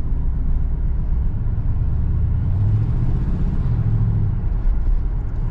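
A 1977 Oldsmobile Cutlass Supreme Brougham drives on the road with a loud, steady engine and road rumble from inside the cabin, with a slight rise in engine tone as the transmission kicks down.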